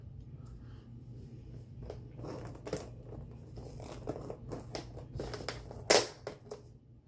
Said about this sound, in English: let me go ahead and cut through the tape